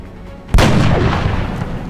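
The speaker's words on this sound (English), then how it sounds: "Shot failed to connect." A single loud, close gunshot blast from the XCOM: Enemy Unknown video game, a sharp crack followed by a long rumbling tail that fills the rest of the moment.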